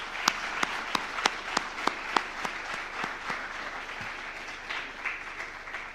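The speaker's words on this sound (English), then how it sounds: "a huge round of applause for doing what you people do" Audience at a financial planners summit claps in applause, a few sharp loud claps standing out at first over a steady, moderate wash of clapping that thins toward the end.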